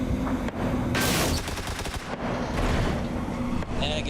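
Rapid bursts of video game gunfire crackle and boom nearly nonstop, dense and loud, with a player's voice faintly underneath.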